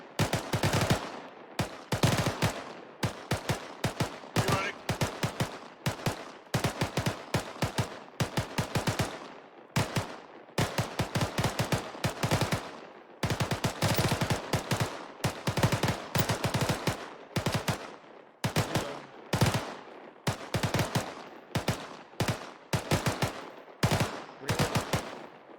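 Semi-automatic rifle fire on an outdoor range, targets about 400 meters out: loud, sharp single shots in rapid irregular strings, with brief lulls between volleys that keep going for the whole stretch.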